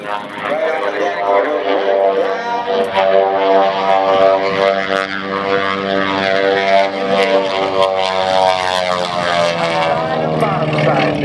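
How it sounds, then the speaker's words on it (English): A loud propeller airplane passes close by at an air show in Houston, its propeller tips going supersonic, with a rough, growling engine drone that holds steady throughout. "The growl that you hear as the airplane goes by is the sound of the propeller tips going supersonic."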